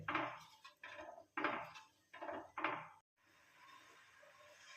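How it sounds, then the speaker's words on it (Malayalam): Jaggery syrup being stirred in a pan, a series of distinct scraping and clinking strokes of a utensil against the pan in uneven rhythm, close and fairly quiet, followed by a faint steady background hiss. "ഒരു നൂൽ പരുവ് ആവുന്നിടം വരെ ഇത് ഇളക്കി കൊടുക്കാൻ"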